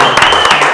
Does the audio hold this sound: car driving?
no